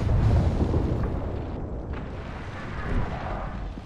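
A thermite grenade bursts in the Apex Legends shooter, a heavy low rumbling blast that roars and sustains for several seconds, loud and close, with no talking.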